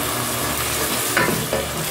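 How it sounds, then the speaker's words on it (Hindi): Minced meat and peas frying in a pan, giving a close, continuous dense sizzle with brief stirring scrapes near the end. "अब हम इसको अच्छी तरह से भून के रखते हैं"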